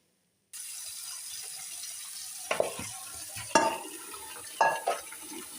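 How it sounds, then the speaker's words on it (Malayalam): Fish pieces being washed by hand in water after salt and tamarind, a steady background hiss broken by three wet splashing, sloshing bursts spaced about a second apart. "ഞാനിതിപ്പോൾ 4ാമത്തെ വെള്ളമാണ് കഴുകുന്നത്, ഉപ്പും പുളി ഇട്ടതിന് ശേഷം"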